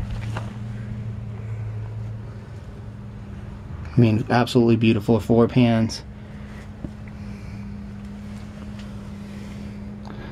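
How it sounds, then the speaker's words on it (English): A 1954 Ford F100 pickup truck idles with a steady, low exhaust rumble that runs the whole time, and someone talks briefly over it in the middle. "I love the way this exhaust system sounds."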